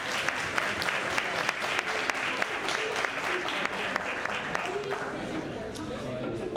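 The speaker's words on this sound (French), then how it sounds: "On les applaudit toutes et tous." An audience applauding contestants at a talent show, a continuous mass of clapping hands with a few sharper claps standing out, even and sustained throughout.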